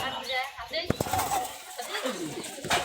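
Pigeons kept by local fanciers in Rajshahi coo and stir nearby, mixed with a couple of sharp knocks and people chatting close by.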